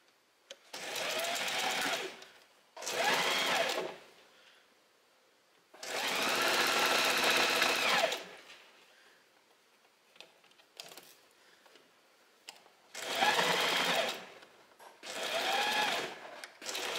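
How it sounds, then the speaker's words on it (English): A sewing machine stitches fabric near a sewn-in zipper in five or six separate bursts of rapid, close mechanical whirring, each a second or two long, with quiet pauses between and no talking. "So here's my stitching where I have sewn the zipper in."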